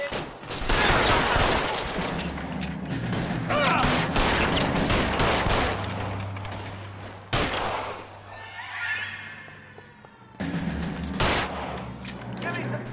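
A chaotic gunfight in the video game L.A. Noire, with sustained loud bursts of rapid gunfire and overlapping shots, a brief lull near the end before more firing resumes, and voices mixed in.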